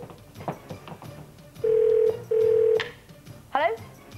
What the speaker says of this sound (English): So let's dial that number, please.